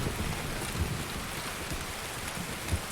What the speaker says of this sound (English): It's definitely hard to see with all the rain